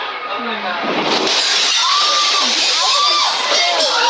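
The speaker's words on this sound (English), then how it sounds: "The water crashes against the window and glass shatters as the spectators scream." A loud, continuous roar of rushing water crashing against a window, with glass shattering and spectators screaming and shouting, with crashing and breaking noises throughout.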